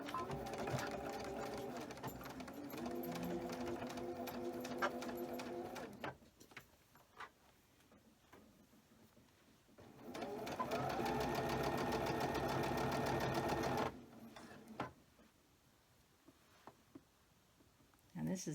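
Sewing machine running a large stitch on a fabric door draft stopper, in two long, loud, steady bursts of rapid mechanical chatter separated by quieter handling of the fabric, up close.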